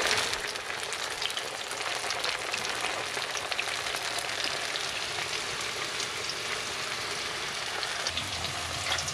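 Steady, dense crackling sizzle of meat frying in its own hot juices, loud and continuous with no talking.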